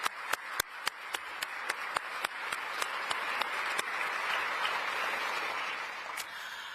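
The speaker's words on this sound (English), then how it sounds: "Please give her an applause." An audience at a political panel event in Oslo applauds a guest. A few sharp, loud individual claps stand out over a dense, steady wash of clapping that builds and holds for several seconds.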